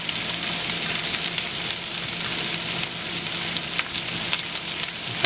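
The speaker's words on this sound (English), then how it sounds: "These will fry for around 10-15 minutes until they get caramelized a bit" Vegetables fry in a hot pan for homemade vegan pizza topping, a continuous dense crackling sizzle heard close up with no voices.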